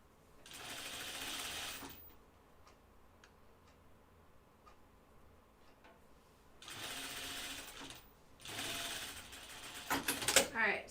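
A sewing machine runs in three bursts, stay stitching the neckline of a Kelly Anorak jacket, with ticking mechanical clicks and quiet handling noise in the pauses between runs.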